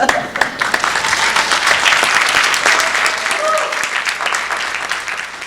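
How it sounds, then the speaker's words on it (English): A lecture audience applauds a research team, a steady wash of many hands clapping at close range that fills the whole stretch at a fairly loud level, with a few faint voices underneath. "Get a little applause"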